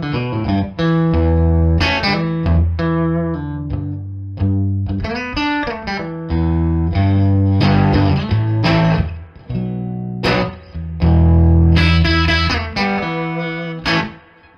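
An electric guitar plays through a Bartel Roseland amp set for a full blackface tone, both tone controls on 10 and channel gain on 3, with loud, continuous strummed chords and picked notes ringing out and no talking.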